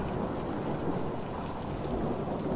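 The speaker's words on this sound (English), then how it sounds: "like thunder, guys, like real thunder" Steady heavy rain with a rumbling thunder sound effect plays during a live stream, a loud continuous wash of downpour and low rolling thunder with no voices.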